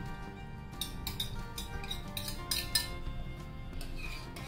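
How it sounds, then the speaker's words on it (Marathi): A spoon whisks fresh yogurt in a bowl, making a steady run of light metallic clinks and scrapes against the dish, close and fairly quiet, with no talk. "हे दही आहे ना व्यवस्थित असं फेटून घ्या."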